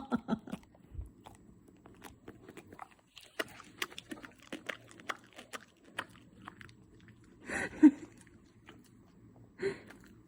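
Close, quiet chewing of Korean rice cake (tteok), soft sticky mouth sounds and small crunchy bites scattered irregularly, with brief breaths and mouth noises between.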